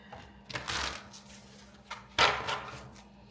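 A deck of tarot cards is shuffled close by in two distinct bursts, each a quick crisp riffle of papery flutter, separated by a brief quiet pause.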